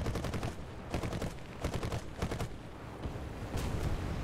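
Aircraft gunners in War Thunder fire machine guns in sharp repeated bursts, about six or seven short rattling volleys spaced through the stretch, loud and close.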